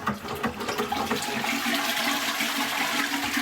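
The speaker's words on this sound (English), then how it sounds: "I have noticed that this isn't flushing right, it takes 2 or 3 pumps." A cloakroom toilet flushes with a faulty siphon whose split diaphragm fails to pull the water through properly, giving a steady, moderately quiet rush and gurgle of water that runs on evenly for several seconds with no talking.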